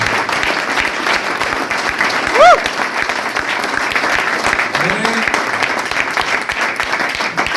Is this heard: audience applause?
yes